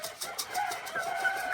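Chickens cluck nearby in short, repeated calls, a steady scattering of soft clucks with no talking.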